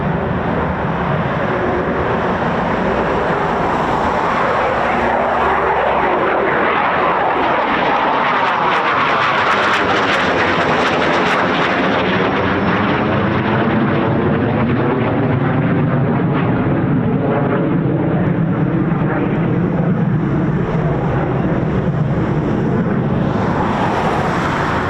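Eurofighter Typhoon FGR4 jet departing an RAF station, an intense, continuous engine roar with a sweeping pitch shift as it passes, loud and close throughout with wind buffeting the microphone.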